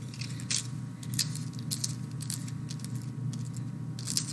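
Dry crackling and crunching in short bursts as a brittle dry leaf is handled up close, over a low steady background hum.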